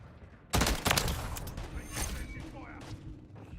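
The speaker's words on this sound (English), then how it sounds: "Stun grenade!" A stun grenade goes off in a video game with two sharp bangs close together, followed by a fading rumble and scattered combat noise.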